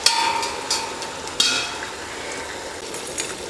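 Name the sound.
tomatoes sautéing in pan for country chicken biryani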